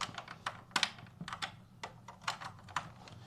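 Computer keyboard keys are pressed in a quiet room as a Minecraft player reconnects a keyboard to a PS5, giving about a dozen crisp, close clicks in an uneven rhythm with no voices.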